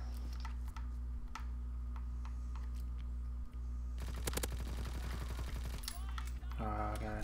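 Gunfire in the World War II shooter game Call of Duty WW2, with rapid bursts of automatic fire and scattered single shots in the latter half, over a steady low background hum.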